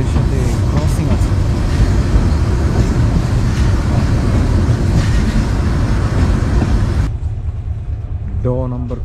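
The Kurigram Express, a meter-gauge train hauled by a new 3000-series locomotive, rolls along with a loud, dense, steady rumble heard from onboard, which drops sharply near the end, leaving a brief tonal sound.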